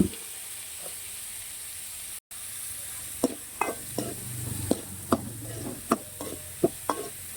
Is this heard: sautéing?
yes